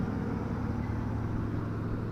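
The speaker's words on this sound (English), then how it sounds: "More tractors cutting grass." Tractors mowing grass around a village produce a steady, fairly faint mechanical engine drone that stays even and continuous.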